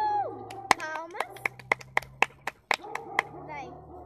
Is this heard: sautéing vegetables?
no